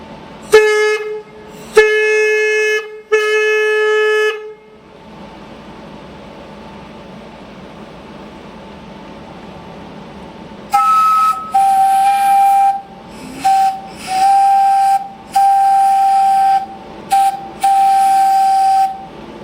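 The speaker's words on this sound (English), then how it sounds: "His horn just sounds amazing. It sounds as good as any train or boat horn I've ever heard." Three loud, steady Jani J air horn blasts, a pause with low background noise, then a series of shorter and longer whistle toots in an uneven rhythm, close and powerful.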